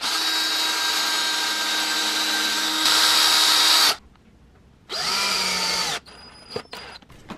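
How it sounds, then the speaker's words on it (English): A power drill whines steadily for about four seconds while drilling a pilot hole in wood, pauses, then runs again in a shorter burst, followed by faint clicks and handling noise. "we'll drill our hole right in the center."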